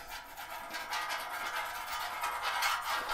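Soft, continuous rubbing as olive oil is worked across the surface of a preheated Blackstone griddle, a faint close-up hiss with no talk.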